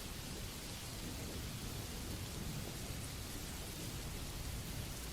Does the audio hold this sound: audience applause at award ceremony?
no